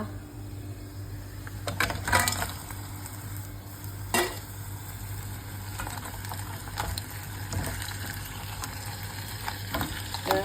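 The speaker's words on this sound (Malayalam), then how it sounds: "കഷ്ണങ്ങളാക്കിയ ഞണ്ട്, വൃത്തിയാക്കിയ ഞണ്ട്, പിന്നെ അതിൻ്റെ കൂടെ ഒരു തക്കാളി ചെറിയ പീസായിട്ട് അരിഞ്ഞത് അതിലേക്ക് ഇടുക." Cleaned crab pieces and finely chopped tomato are stirred in a frying pan, a low sizzle running under irregular scrapes and knocks of the spoon, louder in a few brief bursts, with no voices.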